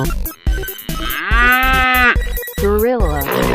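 Cartoon cow in a 3D animation gives a loud, drawn-out moo lasting about a second, then a shorter rising moo, both close and clear over a busy animated backdrop.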